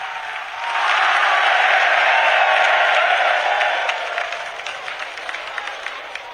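An audience gives loud, sustained applause as the Prime Minister is welcomed at a Bageshwar Dham gathering, the clapping swelling quickly, holding strong, then thinning toward scattered claps.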